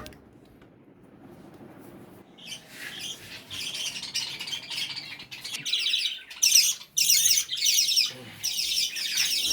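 Pet birds in aviary cages squawk and chirp, quiet at first and then breaking into dense, fairly close bursts of sharp calls that grow louder toward the end.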